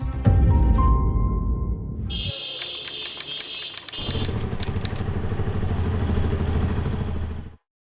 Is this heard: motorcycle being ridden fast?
yes